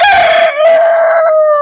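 Rooster crowing inside a chicken coop, one long loud drawn-out call with a strong sustained tone that dips briefly midway, close to the microphone and with no talk over it.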